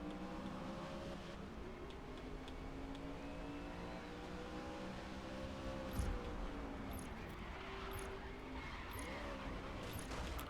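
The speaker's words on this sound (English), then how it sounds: "A little too much spin coming around that corner." Truck tires scrub and skid through a corner in the racing game GRID Legends, with a steady engine drone throughout, a short squeal and thump near the middle, and faint talk underneath.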